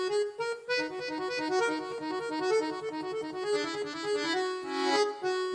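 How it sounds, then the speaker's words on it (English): An accordion plays a lively, bouncing tune with reedy chords and quick melodic notes, steady and close with no voices. "It's an accordion."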